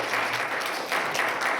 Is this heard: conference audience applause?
yes